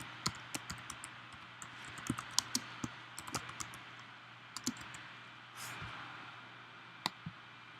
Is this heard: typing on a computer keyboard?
yes